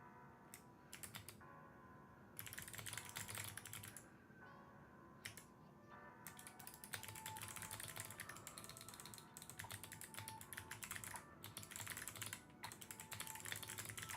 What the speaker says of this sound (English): Oh, well, can you guys hear my new keyboard, by the way? It's so clicky.